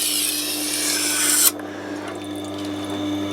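A knife blade grinds against the stone of a Tormek T8 sharpening machine. The harsh, steady rasp sounds close, then drops away suddenly as the blade lifts, leaving the quieter, even hum of the machine running alone.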